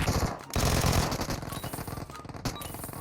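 Rapid automatic gunfire in the mobile battle royale game PUBG Mobile, loud and dense bursts crackling almost continuously, with a brief pause near the start and another short break later.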